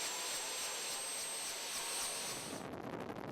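A Philippine Air Force helicopter gives a steady, loud, broadband engine and rotor roar with a high whine, continuous and close, easing slightly near the end.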